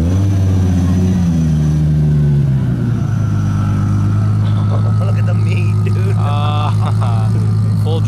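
A loud drag car engine at a JDM Honda show idles with a deep, steady drone, then revs, the pitch rising and falling, with voices chattering over it.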